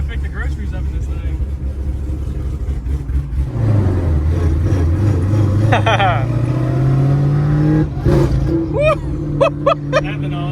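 A 900 hp 2025 BMW M4 Competition xDrive on ethanol idles with a deep rumble, then revs up and holds higher, with loud blips near the end, while people talk over it.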